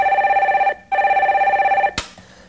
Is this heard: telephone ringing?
yes